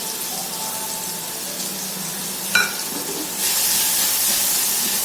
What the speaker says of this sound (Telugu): సో ఇప్పుడు మనం సన్నగా కోసుకున్నటువంటి ఉల్లిపాయ ముక్కల్ని యాడ్ చేసుకుంటున్నాం.